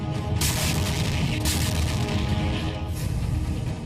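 Three deep booms of M777 howitzer fire land about a second apart over a loud, steady rumble, each blast sharp and powerful.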